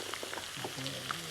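Carrot, onion and green chilli sizzle in a hot pan for an omelette shawarma filling, a steady crackling fry with faint stirring scrapes and no talk over it.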